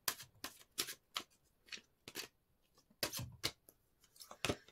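Tarot cards shuffled and drawn for a Hindi-language tarot reading, a run of close, crisp riffling bursts and sharp card slaps at an uneven rhythm, with quiet pauses between and no voices.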